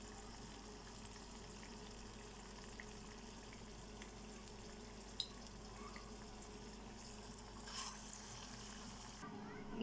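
Chili bajji is given a second fry in oil, producing a faint, steady bubbling sizzle with a few small pops and light clinks.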